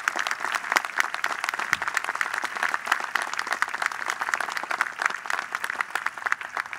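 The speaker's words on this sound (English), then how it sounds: "please give them a big round of applause" Audience applause fills a university presidential inauguration ceremony, steady dense clapping from a large crowd that holds evenly throughout at moderate level.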